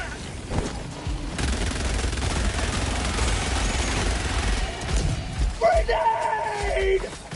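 Gunfire and a grenade blast in Helldivers 2, rapid automatic fire rattling steadily for several seconds before a heavier explosive burst and crackling debris near the end.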